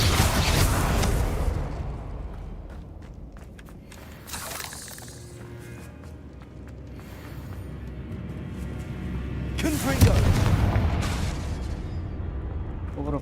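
Confringo and Bombarda spells going off in the Hogwarts Legacy game, two loud crackling blasts with a bright shattering burst, separated by a stretch of lower rumbling combat sound, while a player speaks over them.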